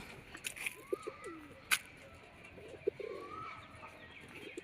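Soft pigeon coos from pigeons of various breeds repeat at intervals over a faint background hum at a zoo, with a few sharp chirps from other birds.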